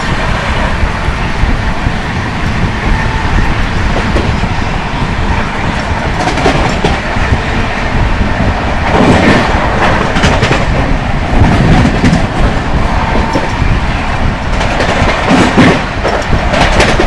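Chennai Duronto Express in motion, heard from inside a sleeper class coach while overtaking another express train: a steady, loud rumble of wheels and carriage noise with rhythmic clickety-clack over the rails, continuous throughout with no talking.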